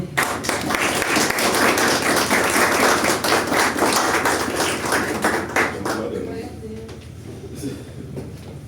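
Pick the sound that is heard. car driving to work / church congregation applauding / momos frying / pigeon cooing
church congregation applauding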